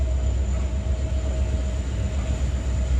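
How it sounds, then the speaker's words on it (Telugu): The Jammu Tavi Express, pulled by a diesel locomotive, rolls along with a steady, unbroken rumble and a faint sustained whine throughout, with no voices. "మన ట్రైన్ ని పుల్ చేసేది ఒక డీజిల్ లోకోమోటివ్."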